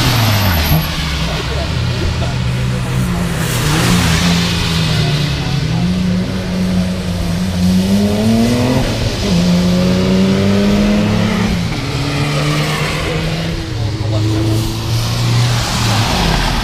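A Subaru WRX S207, a limited Japan-only model with a manual gearbox, accelerates hard on the Motorland Suzuka circuit, its engine note climbing through the revs loud and close over a steady, continuous roar, with people talking over it.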